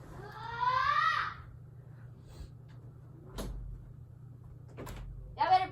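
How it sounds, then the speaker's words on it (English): A bedroom door is pushed shut in a home, giving one sharp knock near the middle and a second softer thud a little later, with a voice talking before it and again at the end. "let me shut my door"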